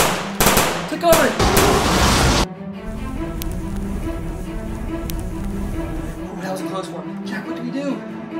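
Nerf blasters fire in a Nerf battle: a dense volley of sharp, loud bursts crowds the first two seconds and then stops, leaving a quieter room with scattered clicks and knocks.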